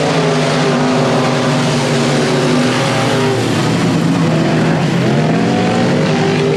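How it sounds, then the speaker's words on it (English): A dirt track race car losing power on the back straightaway at Leesville 171 Speedway gives a loud, continuous engine drone whose pitch wavers and sags midway, then holds steady without talk. "The car sounds like it's lost some power."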